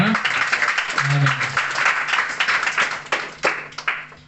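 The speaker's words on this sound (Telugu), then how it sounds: "దైవజనుల కొరకు అందరు చప్పట్లు కొడతామా?" A church youth meeting audience claps, a dense burst of hands that thins into scattered separate claps toward the end, mixed with voices and a few other noises.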